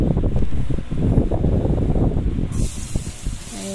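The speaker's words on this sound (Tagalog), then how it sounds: "Gisa-gisa na tayo." Pork spare ribs sauté in a hot pan for a misua soup, giving a loud, close, continuous hiss that shifts in tone partway through.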